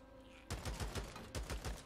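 Bursts of gunfire in the zombie survival game Days Gone begin after a quiet half second, a rapid string of loud close shots, then a brief gap and another quick volley.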